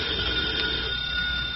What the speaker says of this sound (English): First thing in the morning, the phone wakes me.